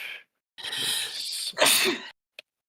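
A single loud sneeze with a sharp inhale and explosive burst, followed by a brief faint click.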